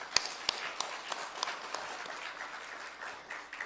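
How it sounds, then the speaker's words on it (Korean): A church congregation at a Sunday worship service claps for the choir, a soft, fairly distant patter of applause with a few sharper claps early on, fading as it goes. "박수 한번."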